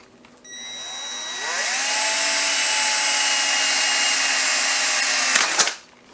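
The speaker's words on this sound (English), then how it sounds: "Now we're going to drill a hole on the other side right in that spot" A power drill spins up and whines steadily for several seconds at close range, drilling a hole in a titanium camping stove, then cuts off abruptly.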